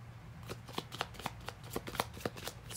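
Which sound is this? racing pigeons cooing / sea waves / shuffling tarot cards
shuffling tarot cards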